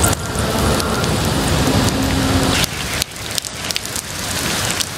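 Heavy rain pours down in a dense, loud, steady roar, then cuts to a slightly softer downpour spotted with scattered drip and splash hits.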